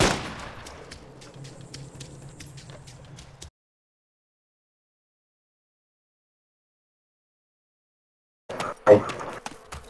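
Gunfire in the survival video game DayZ: a cluster of sharp shots rings out at the start, then near silence, then another loud burst of shots near the end.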